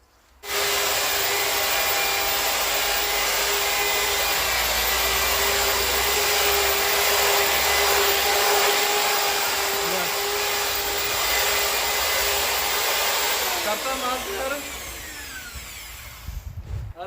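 A machine mixes a full bag of building material for wall work, giving a steady, loud motorized whir that runs almost unbroken, then tapers and roughens near the end, with no clear speech.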